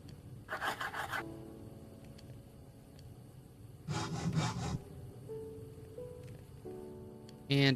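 Saw crafting in the GTNH Minecraft modpack comes through as short, rasping sawing bursts, one early and one longer near the middle, over soft background music tones, with a final scrape at the end.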